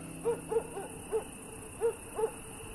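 A barn owl at a church tower gives six soft, short hooting calls, spaced unevenly over a few seconds and heard alone against a quiet, steady background hiss.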